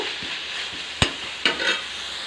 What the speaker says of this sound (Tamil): இதை வந்து ஒரு வதக்கு வதக்கி விட்டுட்டு